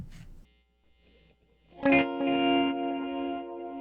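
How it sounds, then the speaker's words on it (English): A clean electric guitar run through Guitar Rig with an LFO-driven volume tremolo, starting with a few quiet notes and then a sustained chord that swells and pulses steadily under a spacious effect, with no voices. "I found a nice clean sound and then basically used this LFO here to automate the volume in order to give it that classic kind of tremolo sound"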